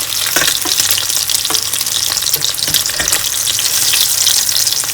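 Shami kababs fry over medium heat in a pan, giving a loud, dense, continuous sizzle of spattering oil with occasional scrapes as they are gently moved, close and steady throughout.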